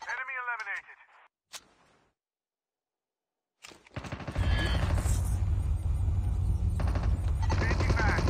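Gunfire in the Call of Duty Mobile battle royale video game: after brief game voice lines and a short silence, sustained rapid automatic fire and battle noise start abruptly and continue loud and dense to the end.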